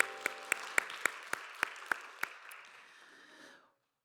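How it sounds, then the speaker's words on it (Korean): A small church congregation at an Easter Sunday youth service claps in a sparse, uneven burst of about eight distinct claps over a soft wash of applause that fades out near the end. "서로를 격려하면서 박수하겠습니다."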